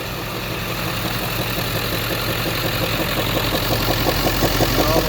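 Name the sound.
Ford E450 7.3 diesel van engine idling rough with popping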